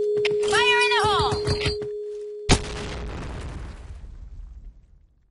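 A grenade goes off in a video game as a single sudden boom that rolls into a long fading rumble, preceded by shouted game voices and electronic tones.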